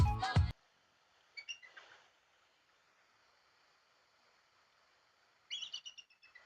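A bald eagle gives its real call, a few thin, high chirping twitters in short bursts separated by silence, fairly faint, after a brief loud sound at the start.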